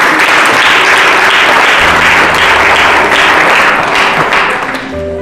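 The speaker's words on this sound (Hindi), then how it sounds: "ताली बजा दीजिए।" Loud, sustained applause from a congregation during a church sermon, many hands clapping densely and evenly for several seconds with a faint low hum underneath.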